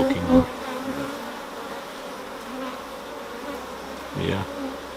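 Honeybees hum steadily at low level as a beekeeper inspects a colony with a Derbyshire queen rearing and bee improvement group, with a couple of brief louder bumps or handling knocks near the start and end.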